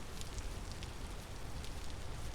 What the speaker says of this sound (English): it's just raining balls right now